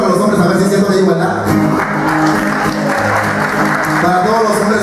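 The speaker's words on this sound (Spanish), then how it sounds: "Ahora, mujeres, aplauso para los hombres" A live comedy-show audience claps and cheers for the men in the crowd, a dense, loud burst of applause with crowd noise and some voices mixed in.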